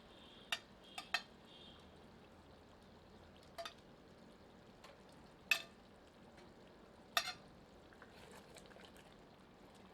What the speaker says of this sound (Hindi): इसे ग्रेवी में मिला देते हैं। अब मटन के पके हुए पीसेस सम्मिलित करते हैं।